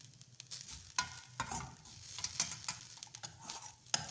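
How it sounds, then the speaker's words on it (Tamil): Grated coconut sautéed in a pan with a little ghee gives a soft, quiet sizzle broken by repeated scraping and tapping from stirring. "நல்லா கிளறி விட்டுக்குங்க பிடிக்காம."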